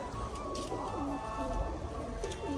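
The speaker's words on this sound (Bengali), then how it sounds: "এখানে অনেকগুলো পায়রা কিন্তু হট করে উঠে গেল উপরের দিকে" Rajshahi pigeons cooing in soft, repeated rolling calls close by over a steady background murmur.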